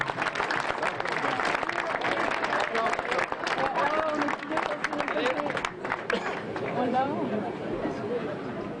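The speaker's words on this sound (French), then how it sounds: "on peut les applaudir bien fort" Audience at the third Trompe Goule World Cup in Le Mans applauding the champions: sustained, dense clapping from a large crowd, steady and loud throughout, with crowd chatter mixed in.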